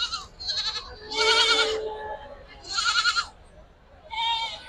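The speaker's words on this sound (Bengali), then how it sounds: "আমি ভিতরে এগিয়ে যাচ্ছি এবং আপনাদের দেখাচ্ছি ছাগলগুলো" Goats at a crowded livestock market bleat loudly nearby, four or five wavering calls in quick succession over a low murmur of background activity.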